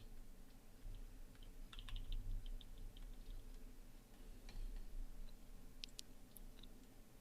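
Computer keyboard keys, likely the arrow keys, tapped in short scattered clicks and small bursts while an image for social media is nudged into place, faint and close over a low background hum.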